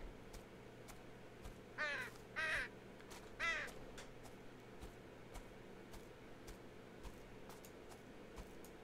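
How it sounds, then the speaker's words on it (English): Crows caw in the video game Betrayer, giving three short bursts of harsh calls over a quiet ambient hum, distinct but not loud. "Oh, birds."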